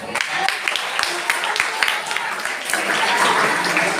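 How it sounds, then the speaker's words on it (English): An audience at a school event claps in a dense, continuous patter of applause that swells slightly toward the end, with some voices mixed in. "Big round of applause to him as well."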